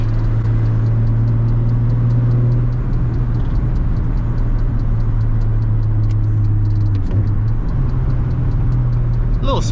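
A car fitted with an open dump, a Tial wastegate and a Tial blow-off valve gives a loud, close, steady low engine rumble that holds throughout, with a slight shift in tone partway through.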